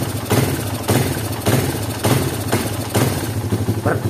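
Honda Mega Pro motorcycle engine revved in repeated throttle blips, loud and close, each burst surging and falling back about every half second over a continuous rough idle.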